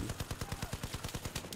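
Rapid automatic gunfire from a light machine gun in the Battlefield 4 video game, Operation Locker map, a steady burst of about a dozen evenly spaced loud shots with no talk over it.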